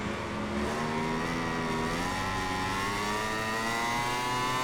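Racing motorcycles in the MotoGP 21 video game accelerate hard, their engine and exhaust note climbing steadily in pitch as the revs rise, loud and continuous with no talking.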